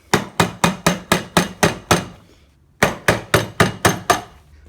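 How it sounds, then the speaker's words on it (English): A soft hammer strikes the reed cages of a Polaris Ultra 680 snowmobile engine in a steady run of about eight sharp knocks, pauses briefly, then resumes with another quick series of blows. "Take a hammer, take a soft hammer, and all you're going to do is start hitting on the reed cages."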